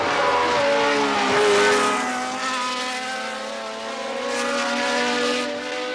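Formula One cars roar through Copse Corner at Silverstone during the British Grand Prix, a loud, continuous high-revving engine wail whose pitch sweeps up and down as the cars pass, with no voices.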